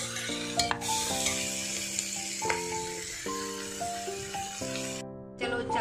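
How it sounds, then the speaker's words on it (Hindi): Onions fry in oil in a pan, a low continuous sizzle with occasional stirring scrapes, mostly covered by prominent background music. "प्याज को हम अब ब्राउन होने तक भूनेंगे"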